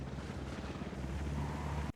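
Helicopter in Ghost Recon Wildlands, a steady rotor and engine drone with broad rushing noise that holds constant, then cuts off abruptly at the end.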